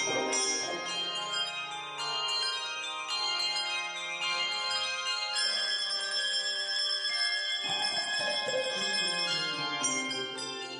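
Ringing handbells sound together in sustained, shimmering chords that overlap and keep going without pause.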